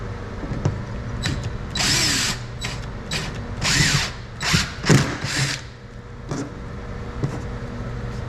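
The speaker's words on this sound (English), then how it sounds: "I guess drill the next one." An impact drill runs in short bursts and rattling hammering spurts while fastening a big cargo box onto a 2026 Can-Am HD11 Defender Limited, loud and close with pauses between runs.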